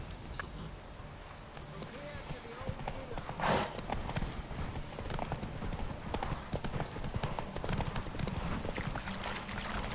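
Geralt's horse Roach from The Witcher 3 clip-clops steadily along, hooves beating in a continuous rhythm under game music and someone talking.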